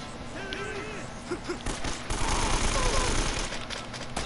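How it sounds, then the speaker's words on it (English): Gunfire in the video game Uncharted, with bursts of shots layered over a busy game soundtrack and scattered tonal effects, growing denser and louder in the second half, with some voice in the mix. "when you hear the gunshots, you don't know where it's coming from."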